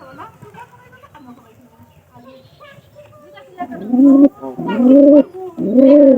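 Pigeons in a loft coo, starting as faint distant calls under a quiet voice, then swelling into loud, close, repeated throaty coos toward the end.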